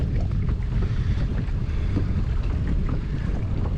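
A kayak driven by a Watersnake T24 trolling motor on low speed heads into wind and tide, with steady wind buffeting the microphone and water rushing and slapping along the hull, close and continuous without talk.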